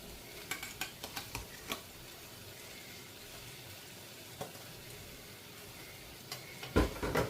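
Tomatoes tipped into soya meat curry frying in a home kitchen pan, giving a steady low sizzle with a few sharp clicks and stirring taps early on and a louder burst of frying near the end.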